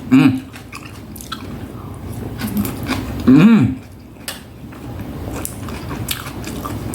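Someone chewing crunchy raw lettuce in a bowl of bakso-style soup, close-up bites and crunches with a few spoon clinks, loud bursts between quieter chewing, with brief talk in between.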